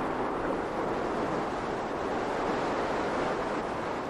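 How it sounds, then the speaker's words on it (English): Water rushing over a fast weir on the River Shannon, a steady, broad roar of churning flow with no breaks, fairly close and filling the whole scene without any voices. "The river here comes around in a wide span and goes down the fast weir"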